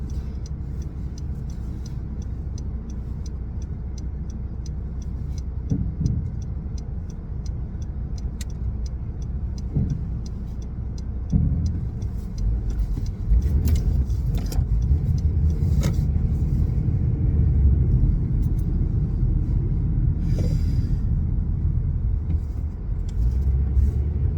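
A car is driven through slow city traffic, with a steady low engine rumble and road noise from inside the cabin, a faint ticking from a turn signal, and the rumble growing louder midway.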